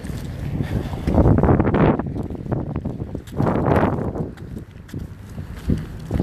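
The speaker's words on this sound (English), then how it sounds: "Still windy as all fuck out here." Gusty wind buffets the microphone in broad rumbling surges, rising and falling over a few seconds, with faint hoof-like clopping underneath during an outdoor dog walk.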